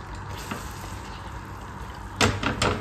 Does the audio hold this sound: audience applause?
no